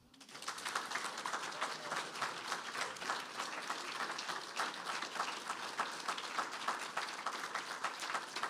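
An audience applauds after a poetry reading, steady and fairly dense clapping that fills the room for the full stretch without letting up.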